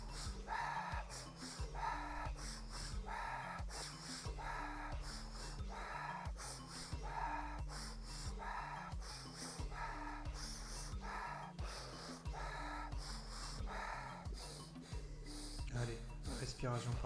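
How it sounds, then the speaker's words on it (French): Rapid breath-of-fire pranayama through the nose, quick rhythmic forceful exhalations repeating steadily over a low musical backing, close and continuous. "On va passer par la respiration par le nez."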